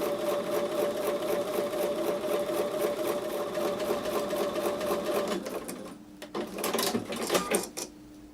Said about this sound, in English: So I'm going to take these over to the sewing machine and sew 1/4 inch on both sides of the drawn